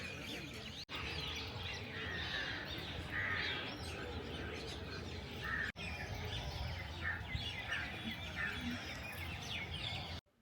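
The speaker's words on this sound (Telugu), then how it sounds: "పిచ్చుకల సౌండ్స్ అవన్నీ ఎంత బాగా వస్తున్నాయో." Dense chirping of many sparrows fills the grounds of Srirangam temple, a continuous chatter at a moderate distance over a steady ambient wash.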